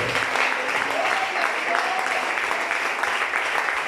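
A church congregation applauds during a sermon, a dense, steady wash of clapping with a few voices calling out beneath it.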